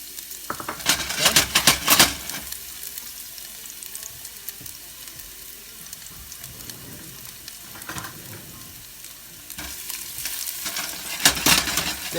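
Garlic sizzles in a pan, with loud bursts of stirring and scraping near the start and end and a quieter steady fry between.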